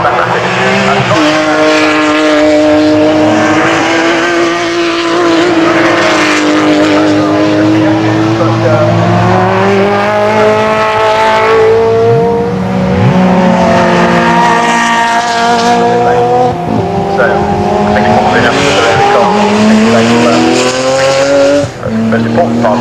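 Several 1.8 litre turbo race cars lap Castle Combe circuit at an F3/GT meeting, their loud engines whining and sweeping up and down in pitch continuously, with a commentator talking over the racket.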